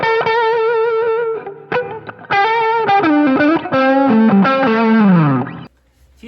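Electric guitar played through a Tube Screamer–style overdrive on an M-VAVE MK300 multi-effects unit, a loud distorted phrase of sustained notes and slides that ends in a sharp cutoff, with no talking.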